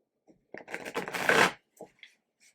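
Tarot cards riffle-shuffled close by in one brisk burst of about a second, followed by a few soft taps and flicks as the deck settles.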